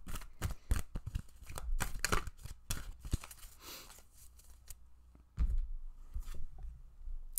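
Hands draw a Dreams of Gaia oracle card from the deck, giving quiet, crisp card snaps, riffles and taps in irregular bursts with short pauses between them.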